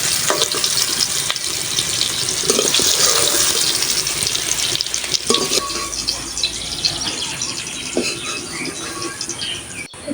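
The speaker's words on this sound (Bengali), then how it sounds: "কুমড়ো ভাজা হয়ে গেছে, এই আলুর ভিতরে নাড়িয়ে নেব" Fried pumpkin and potatoes hiss in hot oil in a pan as they are stirred together, with a steady broadband sizzle, occasional clinks and scrapes, close and fairly loud, with no talking.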